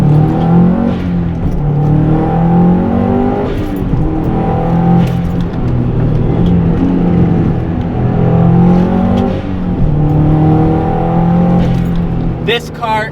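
A 400-horsepower built Subaru WRX STI with a Blouch turbo holds a loud, steady engine drone with rising revs and turbo whir, dense and continuous throughout, while a person talks over it.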